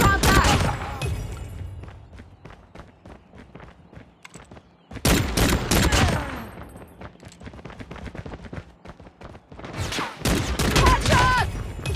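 Rapid bursts of gunfire from the mobile shooter game Call of Duty Mobile, loud and dense at the start and middle and again near the end, with brief quieter gaps and some game voice callouts between the volleys.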